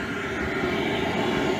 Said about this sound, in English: Yeah, draft motor's blowing.